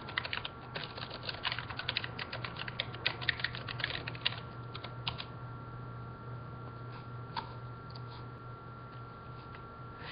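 Rapid clicking keystrokes on a computer keyboard while entering a university username and password, in a quiet room: dense bursts of typing at first, thinning to sparse taps, faint and close.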